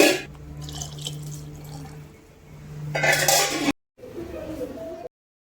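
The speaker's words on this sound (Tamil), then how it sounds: "இன்னும் கொஞ்சம் தண்ணியை ஊற்றிட்டு மூடி போட்டு வச்சிடலாம்." Water is poured into a cooking pot with a brief splashing rush, amid faint clinks of cookware before the sound cuts off abruptly.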